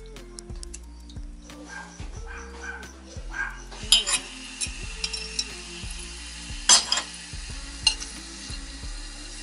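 Mussels fry in a pan, with soft sizzling, repeated metallic clinks and scrapes of a utensil against the pan, and a few sharper clacks, all over a steady low tonal background.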